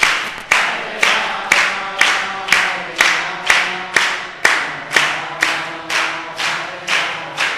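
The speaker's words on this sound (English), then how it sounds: "Keep clapping." An audience at a Srimad Bhagavatam class claps in a steady, regular beat, about two sharp claps per second, loud and even throughout with no voices.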